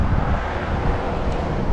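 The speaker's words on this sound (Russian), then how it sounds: "а ветер-то здесь какой" Strong seaside wind roars steadily into the microphone at a coastal viewpoint, a constant loud rush of broadband noise with no pauses.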